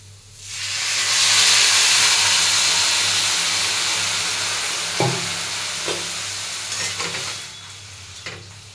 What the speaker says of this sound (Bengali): সুন্দর সাবুদানা ভাজা হয়ে গেছে। এরপরে দিয়ে দেবো জল।